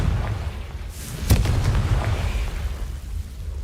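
A Confringo fire spell from the Hogwarts Legacy video game bursts with a sharp, loud blast near the start, trailing into a rumbling low roar that fades over the following seconds.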